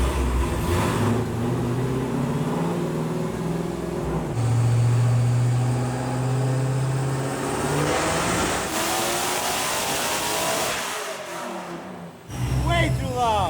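A Dodge Demon car engine with a manual transmission revs hard and loud on a dyno, climbing in pitch through a sustained pull, then drops off and surges again near the end.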